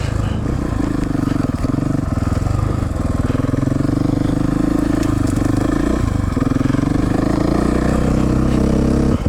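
A KTM 450 Six Days motorcycle engine runs loud and close through a continuous ride, holding a steady, gritty roar with brief dips and surges as the throttle shifts.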